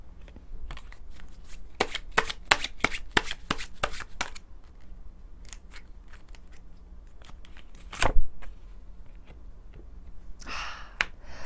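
Tarot cards being shuffled by hand, a burst of quick crisp riffling flicks followed by scattered single card snaps and one louder slap, close and clear with no talking.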